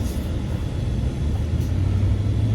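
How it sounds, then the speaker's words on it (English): A steady low rumble from a Ram truck's idling engine with its air conditioner running, continuous and fairly loud with a faint hum building near the end. "What you can probably hear is that my AC is working"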